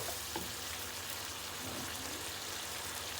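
Two kilograms of chicken tipped into fried spice paste produce a quiet, steady crackling sizzle with faint scattered pops and no voices.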